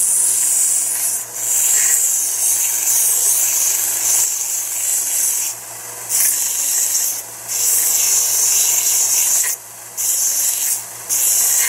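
Hand filing shaves a thin layer off small metal parts of a bearing-installation tool under repair, a steady rasping scrape in repeated strokes with brief pauses between passes, close and fairly loud, with no talking.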